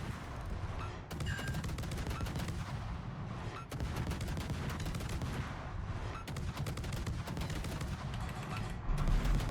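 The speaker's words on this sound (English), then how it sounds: "Alright, Lucian's opening fire" Naval gunfire in World of Warships during a Hawaii operation: repeated heavy booming salvos and crackling blasts over a steady battle rumble, dense and continuous throughout.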